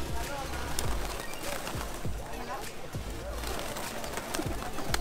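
Pigeons in a town square in León, Nicaragua, with soft wing flaps and faint cooing close by, mixed with footsteps and street noise; people talk nearby.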